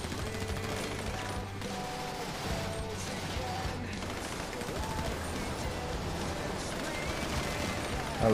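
Sustained gunfire from a gun battle in a video game, a dense rattle of shots and machine-gun bursts running almost nonstop, loud and close, with voices mixed in.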